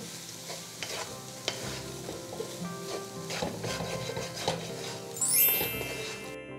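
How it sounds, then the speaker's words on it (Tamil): Mango rice being stirred in a pan over a low flame, a soft continuous sizzle under repeated scraping spoon strokes and light clinks of metal against the pan, close and steady. "இந்த சாதத்தை சேர்க்குறோம் ஃப்ளேமை கம்மி பண்ணிவிட்டு நல்லா கிளறி விடுங்க"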